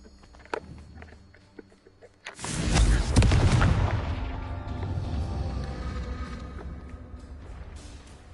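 A Confringo fire spell in Hogwarts Legacy bursts with a heavy explosive boom, followed by a long, loud crackling rumble that slowly fades, after a few faint clicks.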